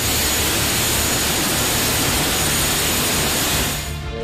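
The turbine engine of an ATAK-2 attack helicopter runs for the first time, a loud, steady, broadband roar and hiss filling the whole stretch, fading slightly at the end.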